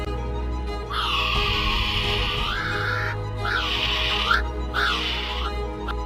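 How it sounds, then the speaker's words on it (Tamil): A kiwi gives a series of shrill, drawn-out whistling calls, three long rising-and-falling cries separated by short pauses, loud and close. "அடுத்ததான் நம்ம பார்க்க போறது கிவிங்கிற இந்த பறவை தான்."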